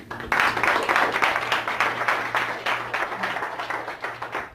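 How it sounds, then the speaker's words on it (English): An audience applauds together, a steady close wash of hand clapping that holds for several seconds without speech. "Give a big round of applause."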